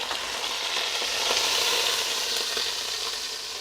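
Beef brisket browns in olive oil in a pan on the stove, giving a steady, close, hissing sizzle with faint crackles and no talking.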